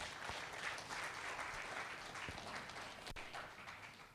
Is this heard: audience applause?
yes